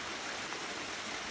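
Waterfall on the Elfin Lakes mountain hike pours in a steady, dense hiss of rushing water, continuous and even, moderately close with no other sounds.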